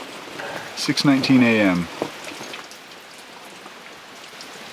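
Steady rain falls on a wet camp in Georgia, a soft continuous hiss that continues after a brief spoken phrase at the start.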